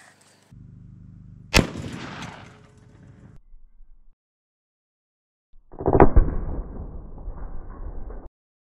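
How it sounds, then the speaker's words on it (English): A 300 Win Mag rifle firing a silver tip armor-piercing incendiary round at a medieval armor target, two sharp loud blasts a few seconds apart, each followed by a rumbling decay. "hopefully put on a little bit of show with the 300 Win Mag"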